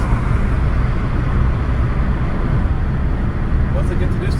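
A manual car's engine strains under heavy throttle in second gear, a steady, loud drone with road noise that holds for several seconds while someone talks over it.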